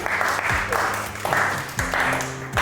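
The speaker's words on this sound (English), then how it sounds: "give James a big round of applause" Clapping from a small audience at a mind-reading show comes in bursts, mixed with voices and some low thumps, fairly close and moderately loud.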